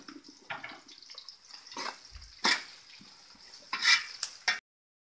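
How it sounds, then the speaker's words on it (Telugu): Chopped onions with salt sizzling and being stirred in a pan for a Telangana-style chicken curry, with a soft crackle and several louder scraping and stirring clatters spaced through. "తొందరగా వేగిపోతాయి ఉల్లిపాయలు."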